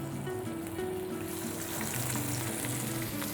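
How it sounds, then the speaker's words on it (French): Squid body and tentacles sizzling in a hot pan with olive oil, a steady close crackle of frying that grows brighter and denser partway through, with faint tonal hum underneath and no talking. "Poêle chaude, huile d'olive. Hop, on va venir poêler la tentacule et l'encornet."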